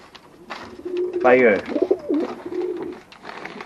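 Pigeons cooing in a backyard pigeon loft, one near bird giving a clear throaty coo sequence with softer coos around it, while someone talks over the birds.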